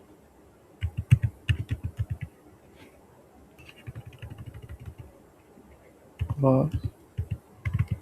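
Computer keyboard typing while writing a Java program in Notepad, bursts of quick close key taps separated by pauses, with someone talking over parts of it.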